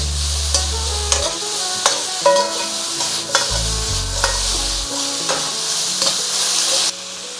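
Beef stir-fry for a crispy bird's nest dish in Cantonese sauce being tossed in a hot pan: loud continuous sizzling with sharp scrapes and clanks of utensil on metal at irregular intervals, no talking.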